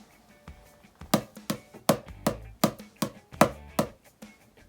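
Hands tapping out a drum fill: about a dozen sharp, dry hits in an uneven rhythm, some accented louder than others, close and with no talking.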